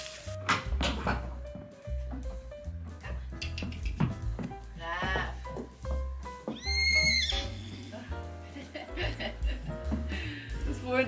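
A foal in a horse trailer whinnies in several high, wavering calls amid hoof knocks and clattering against the trailer, with people talking quietly nearby.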